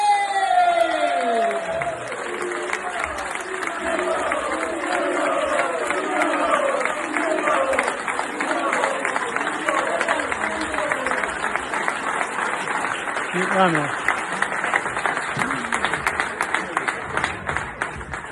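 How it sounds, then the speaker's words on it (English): A large crowd at a Coventry City FC legends evening applauds and cheers for former striker David Speedie, loud sustained clapping with shouts and whoops rising over it and a few voices calling out throughout. "Please give a massive round of applause for David Speedie!"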